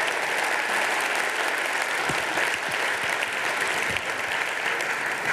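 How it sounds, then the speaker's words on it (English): An audience applauds the mayor at a social innovation keynote event, a loud, sustained wash of clapping from a large crowd with scattered sharper claps, with no talk over it. "Please give him another round of applause"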